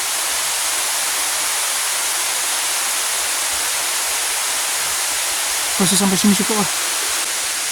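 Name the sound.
waterfall at Kanching Eco Forest Park, Rawang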